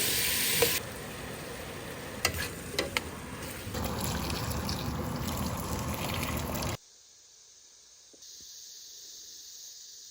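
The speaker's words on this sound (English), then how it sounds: "Just frying the carrots, celery and onion in some olive oil, salt and pepper" Carrots, celery and onion frying in olive oil with salt and pepper, a steady close sizzle with occasional stirring clinks, cutting out abruptly near the end to a much quieter background.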